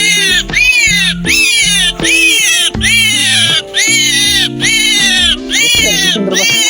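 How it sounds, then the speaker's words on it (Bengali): A pet myna gives loud, harsh, rising-and-falling calls close by, about seven in quick succession with brief gaps between. "কত সুন্দর পাখি ডাকে, দেখছেন"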